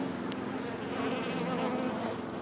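A dense swarm of bees hums nearby at a hive during a trap-out in cold weather, a steady, unbroken buzz.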